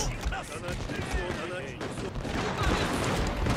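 Musket and matchlock volleys crackle in dense, continuous crossfire during a Shogun 2 battle at Kawanakajima, a busy wash of overlapping shots and booms with a voice talking over the din.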